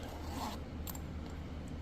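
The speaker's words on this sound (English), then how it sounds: "Does the zipper get stuck there?" The zipper on a 40-inch THK fish kill bag slides along, a close, quiet rasping pull with a few short ticks, heard alone.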